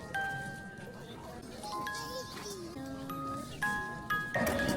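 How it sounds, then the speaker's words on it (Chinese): Old church bells ring in the Alsatian town of Colmar with several sustained, clear tones struck one after another at a moderate distance, under people talking nearby. "古老的教堂响起了钟声"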